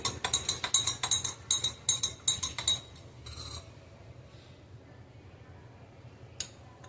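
A spoon clinks rapidly against a glass while stirring honey into hibiscus juice, a quick run of bright taps for about three seconds, then quiet with one last clink near the end.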